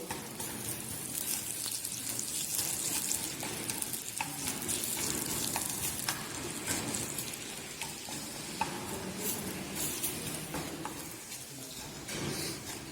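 Garlic cloves sizzle in hot oil while a nettle-leaf dish is being tempered: a continuous close, hissing fry with soft crackles and a few stirring scrapes, fairly even in loudness and without talk.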